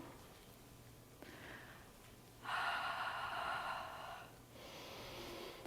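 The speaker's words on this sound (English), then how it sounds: "Breathing." Slow breaths taken during a therapeutic yoga exercise: a soft inhale followed by a louder, longer exhale, then another quieter breath, close to the microphone.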